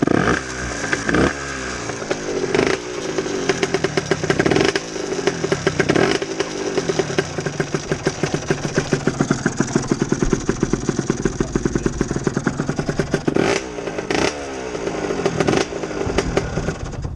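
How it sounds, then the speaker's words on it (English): Loud, buzzing engine drone with a rapid mechanical clatter as an Aprilia RS125 motorcycle's rear wheel spins up, steady and close, with occasional thumps. "now that wheel's spun up a little bit"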